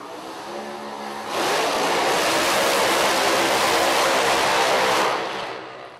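A screw-blower supercharged 1957 Chevrolet Bel Air drag car launches at a street-racing event, a sudden thunderous roar that holds loud for several seconds and then fades off into the distance.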